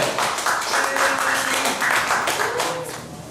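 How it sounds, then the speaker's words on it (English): An audience at an open mic poetry night claps and applauds, a fairly loud patter of many hands that holds steady before tapering slightly at the end, with faint voices mixed underneath. "Big round of applause for Julie."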